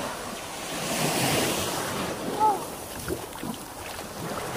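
Waves wash and splash along a beach shore beside a moored outrigger boat, a broad rushing surf with wind buffeting the microphone and a few small close splashes midway.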